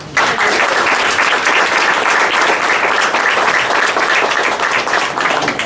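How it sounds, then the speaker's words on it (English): Loud, sustained applause fills a school board meeting room as the audience claps for students, continuous and close for several seconds. "you deserve a round of applause"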